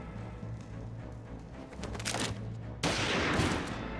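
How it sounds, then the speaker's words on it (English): Gunfire in a Final Fantasy XIV cutscene, a burst of sharp cracks under a low ambient hum, followed by a louder broadband blast near the end. "Did you just shoot someone for making a terrible joke?"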